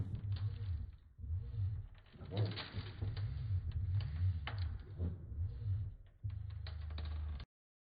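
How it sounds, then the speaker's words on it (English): A 3D printed fastener counting machine whirs and clicks as its plates shift screws into a row, with motor hum and rattling mechanical movements in bursts, and a voice talking over it. "the screws are arranged into a row through a series of plate movements"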